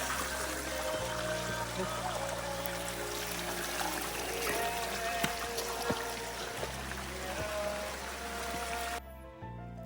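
Water flows steadily beside a night trekking trail up a mountain, a constant rushing pour heard close and unbroken, with no talk over it.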